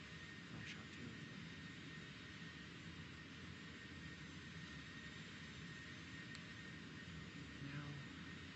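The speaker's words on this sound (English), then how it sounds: "Let's see if we can fly another plane." Jet airplane engine in a flying video game, a steady, faint, unbroken roar that holds at the same level for several seconds with no talk.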